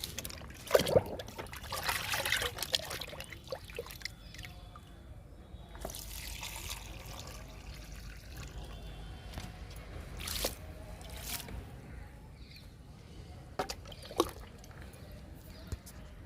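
Liquid fertilizer poured from a container onto a potted rose plant, with soft trickling, dribbling and squishing of wet soil, a few louder splashes early on, then quieter intermittent dribbles and drips close by.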